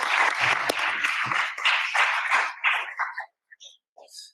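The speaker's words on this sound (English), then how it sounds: "So let's give them a round of applause." Council meeting audience applauding a centre's volunteers: a steady round of clapping from many people for about three seconds, then tapering into a few scattered final claps before silence.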